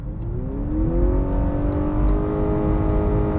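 A 2021 Honda Accord Hybrid engine revs under full throttle in sport mode, a loud, steady droning roar whose pitch climbs gradually throughout, with no voices.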